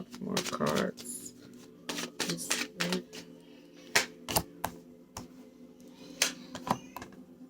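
Tarot cards are shuffled and drawn from a deck in a series of crisp, close flicks and taps, while a person talks throughout.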